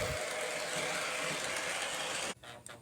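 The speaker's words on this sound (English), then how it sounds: "just enjoy the smooth sounds of them running out of here." Lionel model train locomotives run along the track with a steady mechanical whir and clatter, close and continuous, then cut off abruptly near the end, leaving a few scattered clicks.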